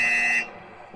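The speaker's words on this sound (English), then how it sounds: "And we got another buzzer." Buzzer going off at an indoor wrestling rumble event, a loud steady electronic tone lasting about half a second before cutting off into quiet room noise.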